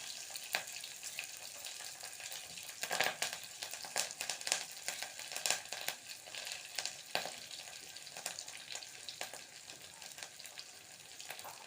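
Green chilies and curry leaves frying in oil for sundakkai puli pachadi crackle and spit softly, with scattered sharp pops over a continuous low sizzle and no talking.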